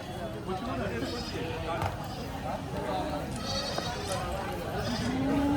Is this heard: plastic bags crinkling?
no